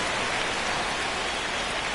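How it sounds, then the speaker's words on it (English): Steady rain falls on a ballpark during a baseball game in MLB The Show 25, an even hiss of heavy rain that continues unbroken throughout. "This rain is not letting up."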